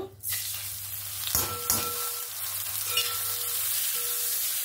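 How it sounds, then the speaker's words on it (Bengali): Gobindobhog rice frying in ghee with torn bay leaves, cardamom and cinnamon: a steady, close hiss of sizzling fat, broken by two sharp knocks early on as the grains go in, then settling into a constant fry with no talk. "চালটা দিয়ে ঘির সঙ্গে একটু চালটাকে ভেজে নেব।"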